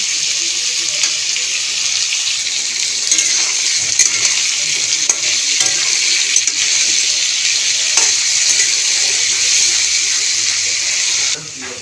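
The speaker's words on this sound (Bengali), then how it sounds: "আলুগুলো সব দিয়ে দিয়েছি, একটু নুন আর হলুদ দিয়ে ভালো করে ভেজে নেব।" Potatoes frying with salt and turmeric in a pan give a loud, steady sizzle that runs without a break, with occasional stirring scrapes, for a Bengali fish curry.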